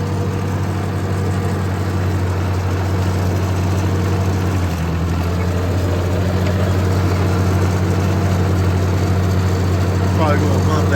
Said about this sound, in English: Let's go take a quick tractor ride before it gets too dark.